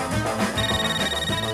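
A cell phone ringing in a cinema, an electronic ringtone with bright repeating tones that rises clearly above a busy background and carries on briefly without any speech.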